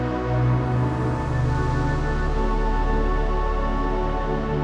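A big, washy pad from a Korg Kronos 3 keyboard: a dense, steady, sustained chord with gentle shimmering movement, loud and continuous with no gaps.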